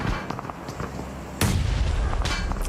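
A grenade goes off during a battle royale video game match, a sudden loud booming burst amid ongoing crackling gunfire and explosion noise.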